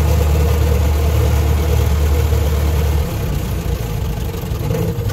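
Ford Model T engine running under way, a loud steady low drone with a clear drop in pitch partway through as it shifts into high gear, then a smoother mid-level hum; no talk.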